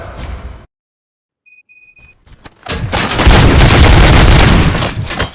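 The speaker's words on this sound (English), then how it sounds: "Gunshots? What's going on?" Gunfire in the video game RoboCop Rogue City: after a few beeping tones and a short silence, a loud, sustained burst of rapid shots and booming impacts erupts and rolls on for several seconds.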